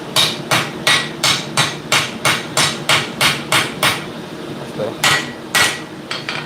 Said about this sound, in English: Bring that hammer up a little bit. Get over the top of it.